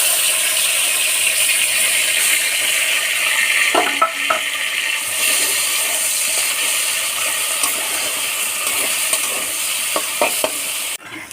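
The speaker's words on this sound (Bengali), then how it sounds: "আলু পেঁয়াজ হাফ ভাজা হয়ে গেছে, বেটে রাখা তিলটা দিয়ে ভেজে নেব।" Ground sesame paste frying in a pan with half-fried potatoes and onions, a steady loud sizzle running throughout with occasional scraping stir clicks, no talking.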